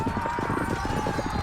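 Horse hooves clip-clop in a steady, rapid rhythm as cavalry moves in the Sword & Siege Crusades wargame, a loud, continuous patter over a low background hum.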